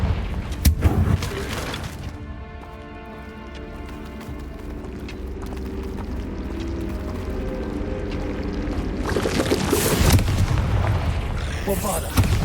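Confringo fire-blast spell cast in Hogwarts Legacy: a heavy explosive boom opens, the rumble dies into a low hum, then fresh loud blasts erupt near the end, close and powerful, with voices at times.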